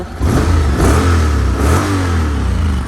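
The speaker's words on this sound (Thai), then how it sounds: "เดี๋ยวลองสตาร์ทให้ฟังเสียงเครื่องยนต์กันดู" A red 2017 Honda X-ADV motorcycle with its stock exhaust runs at a steady, smooth idle close by, with a low engine rumble and a slight rise in revs partway through. No one speaks.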